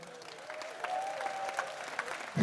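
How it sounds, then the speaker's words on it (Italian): Outdoor concert crowd in Piazza Manzoni, Jesolo, clapping in a fairly soft, steady patter, with a faint sustained tone above it and a louder burst at the very end. "Fate sentire l'applauso di chi è in ferie a Jesolo."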